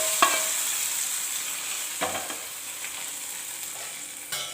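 Hot oil tempering with green chilli sizzles steadily as it is poured into a cucumber mango curry, with a few soft clinks of a spoon against the pot.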